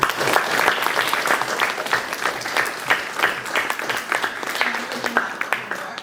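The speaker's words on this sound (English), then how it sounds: "So with that, we have a round of applause." A room of students at a student government general body meeting gives a round of applause, dense overlapping claps rising and falling in waves, with voices talking underneath.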